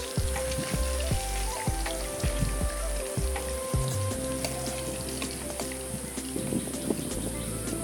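Fish frying in a pan at home in summer, a steady dense sizzle with crackling spits running throughout, with louder low thumps and clatters early on, fairly close and continuous.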